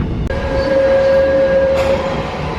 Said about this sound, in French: on a sauté dans le métro